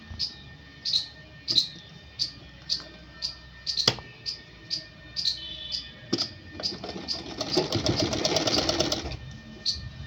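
Sewing machine stitching the seam of a suit, a close run of rhythmic needle clicks that speeds up into a dense whirring burst before slowing again.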